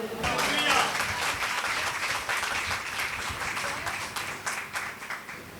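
A church congregation claps through a worship service, a dense, steady patter of many hands that stays loud throughout, with voices mixed in underneath.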